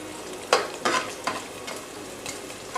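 Boiled, finely cut chicken with black pepper stirred in a pan, an even sizzle punctuated by a few scraping spatula strokes that fade toward the end, close and without any talking.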